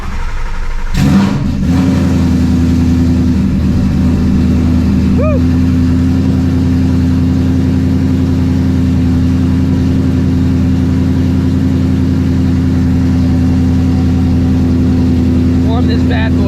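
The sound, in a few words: Mustang GT350 engine cold start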